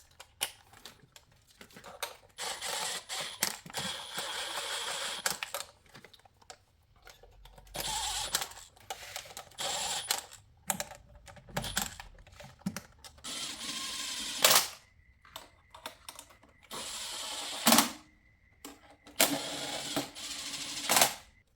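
Metallic clicks and ratcheting taps come from bolts being tightened on the intake manifold of a Mercedes M272 V6, close and intermittent, in irregular bursts with short pauses between them.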